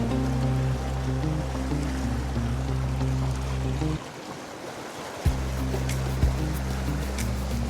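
Heavy creek water rushes steadily through Hidden Springs canyon on Mill Creek, a dense, continuous roar with a low droning undertone and a brief dip near the middle, heard alone with no voices.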